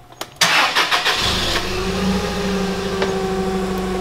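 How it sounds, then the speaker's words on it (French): A forklift engine cranks with a few sharp starter bursts, then catches and settles into a steady, loud mid-pitched idle close by, heard alone. "Je viens de partir le chariot"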